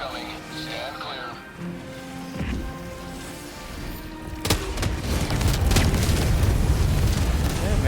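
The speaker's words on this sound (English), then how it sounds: "Let's hold up an orbital napalm" An orbital napalm barrage in the Helldivers 2 game begins with a sudden impact, then a thick, sustained roar of explosions and burning that builds and keeps going, with a voice talking over the earlier part.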